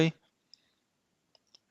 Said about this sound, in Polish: Klikam OK